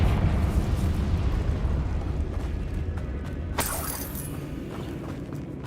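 A Confringo fire-blast spell in Hogwarts Legacy bursts with a sharp, bright crack midway through a rumbling catacomb ambience, then fades into a low roar.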